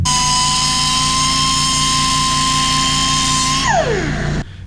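A loud, high-pitched drill whines steadily at close range, drilling out the metal wiring slot on a fuel pump hanger, then winds down and cuts off abruptly near the end.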